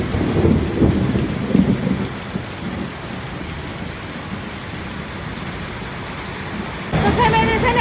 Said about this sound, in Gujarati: કેટલો વરસાદ